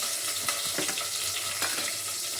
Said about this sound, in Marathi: आणि हे वाटलेलं वाटण त्यामध्ये तेलामध्ये असं छान परतून घ्यायचं, तेल सुटोपर्यंत.